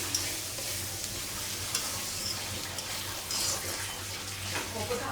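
Pumpkin and eggplant ghonto with bori simmering in a pan on a home stove, a steady soft sizzle and bubbling with faint occasional stirring, continuous and close.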